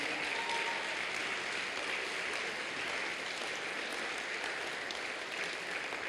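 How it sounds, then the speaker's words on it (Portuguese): A congregation at a Portuguese-language church service applauds, a loud, dense wash of clapping that holds steady and unbroken throughout. "Vamos aplaudir esse Jesus"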